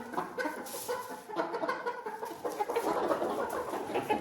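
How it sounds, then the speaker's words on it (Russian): Hens and a rooster cluck repeatedly nearby, a busy mix of short throaty calls and squawks overlapping at moderate loudness. "Курочка. Хорошенькая. А вот петушок."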